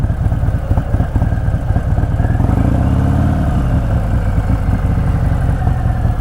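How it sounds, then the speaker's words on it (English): Idle of a Harley-Davidson Softail Sport Glide with a Stage II engine upgrade, a steady, loud, close low-pitched rumble with a choppy lope around 900 RPM, running alone without talk. "I'm gonna let you hear that idle there right quick."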